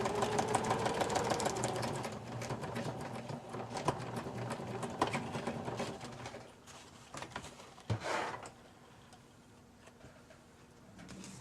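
A sewing machine stitches a fabric teabag gift envelope close along a fold, its motor whirring in a steady, fairly quiet run that eases off and pauses briefly before resuming softly.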